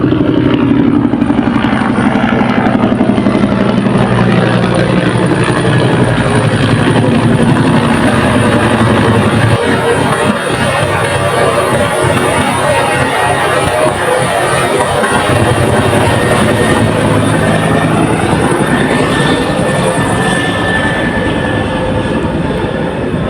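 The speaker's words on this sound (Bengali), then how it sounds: "এত সকাল থেকে বিমানের শব্দ" Loud, sustained engine roar of a Biman Bangladesh aircraft passing overhead, rumbling steadily throughout with shifting tones as it moves.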